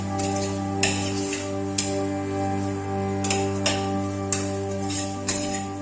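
Prawns pepper roast is stirred in a pan with a spoon. It makes soft, regular scrapes and taps about once a second over a steady hum of cooking.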